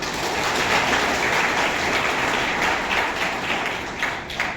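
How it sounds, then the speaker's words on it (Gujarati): An audience at a motivational seminar gives loud, sustained applause, a dense roar of clapping that fills the room with little letup. "એના માટે જોરદાર તાળી પાડો"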